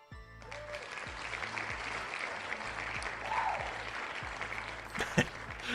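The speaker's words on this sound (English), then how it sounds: "The clapping is so funny to me." Audience clapping plays as a soft, steady patter, fairly faint and even, with a low musical hum or backing underneath and a brief sharper sound near the end.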